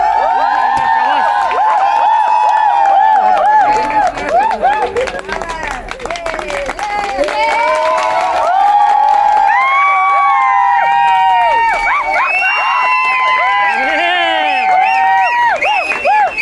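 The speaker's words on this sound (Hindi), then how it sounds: "ताली क्लैप" A crowd claps and cheers at a celebration for a married couple, with dense overlapping applause, shouts and excited voices throughout, loud and sustained.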